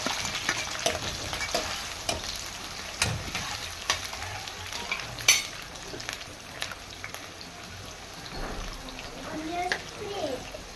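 Sliced onions frying in oil for a spicy palak chicken fry, giving a steady crackling sizzle close by, broken by frequent clicks and scrapes of stirring and one sharper clink.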